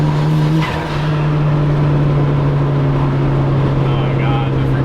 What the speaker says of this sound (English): the freaking vent atmosphere and like the turbo noises